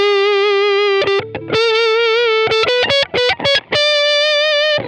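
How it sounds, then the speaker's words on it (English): A sustained, heavily fuzzed electric guitar line played on a Gibson Les Paul neck pickup, with a warm, thick, smoky tone, notes held and bent with brief choppy stabs in between. "I feel like a Gibson or a Les Paul neck pickup is like smoky"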